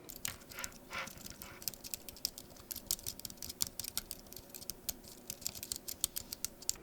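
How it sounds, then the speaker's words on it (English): Rapid, irregular typing on a low-profile, non-mechanical Apple Bluetooth keyboard, light clicky keystrokes close by with soft pattering rhythm, no voices. "here's a Bluetooth keyboard, the Apple Bluetooth keyboard"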